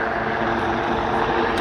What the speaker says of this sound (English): The A-64E is an attack helicopter by trade.